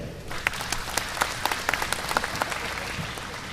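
Scattered applause from a convention audience during a stage hypnosis presentation, a moderate crowd clapping with a few sharper nearby claps standing out above the general patter.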